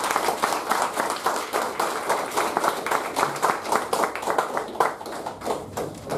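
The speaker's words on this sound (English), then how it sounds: "So I would like everyone to please applaud for this outgoing officer." Members of a Toastmasters club applaud an outgoing officer, a modest crowd clapping in a slightly uneven, rhythmic patter at close range, with no talk over it.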